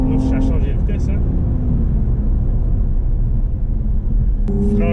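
A 2018 Porsche Cayenne S E-Hybrid accelerates hard from inside the cabin, a loud continuous engine roar with a gear-change dip, and speech at the start and end.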